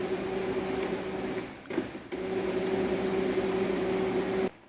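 A printer runs its head-cleaning cycle after a firmware update, giving off a steady mechanical hum with a constant tone that drops out briefly midway, resumes, then cuts off at the end.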